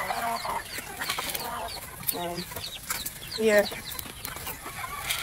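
Chickens cluck and squawk in a backyard flock at morning feeding time, a busy run of short overlapping calls close by, with a person speaking briefly over them.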